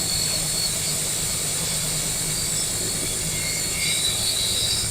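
A 1929 Ford Model A truck engine running steadily with a low, uneven idle, as if one cylinder is dead, heard nearby outdoors with a constant mechanical drone and no talk.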